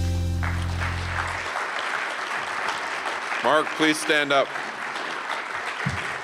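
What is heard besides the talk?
audience applause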